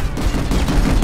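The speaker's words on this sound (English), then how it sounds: "Artillery!" Artillery fire in the sci-fi shooter Planetside 2: a dense, loud burst of booming blasts rolling together with no gaps, close and heavy, with no talking.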